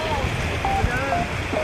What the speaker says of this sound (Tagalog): Sabi ko maalon na. Ayun o, ang alon.